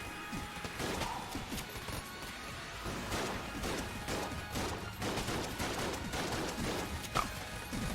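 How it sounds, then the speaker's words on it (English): Rapid gunfire from a shooting bug in Enter the Gungeon, a dense, fast stream of crackling shots with scattered thuds and smashes, steady and moderately loud throughout. "I was wondering why I was firing super quickly. It's just a shooting bug."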